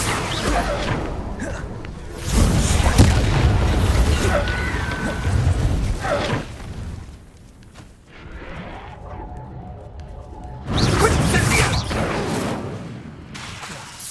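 Hogwarts Legacy spell casts, Incendio and Expulso, land as loud whooshing, booming bursts in two clusters, separated by a quieter stretch with faint tones, in a video game battle.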